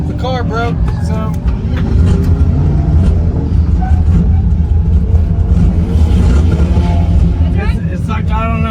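A broken-down car's engine runs rough, a steady low rumble that stays loud throughout, with people talking over it.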